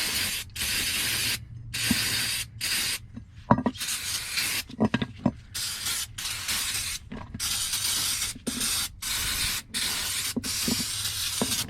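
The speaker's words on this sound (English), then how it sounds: "It's just some basic brake clean. I'm just going to kind of hose it off here a little bit, just to get all the brake dust off it." Aerosol brake cleaner hissing in bursts onto a front brake caliper bracket of a 2012 Nissan Rogue 2.5 S, close loud sprays broken by short pauses and small mechanical clicks, no talk.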